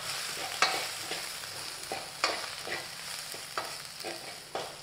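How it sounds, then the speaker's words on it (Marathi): A coarse paste of garlic and green chili with a little cumin sizzles in a pan, with a steady frying hiss broken by repeated scraping spoon strokes every half second or so. "लसूण आणि हिरवी मिरचीची भरड. आणि इथं काय करायचं, हे छान आपण परतून घ्यायचं."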